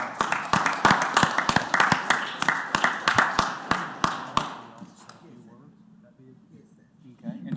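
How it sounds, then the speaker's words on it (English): A small group claps for several seconds at a city council meeting, a sparse, uneven patter of hands up close that fades out into quiet room tone with faint speech. "Let's give them a round of applause."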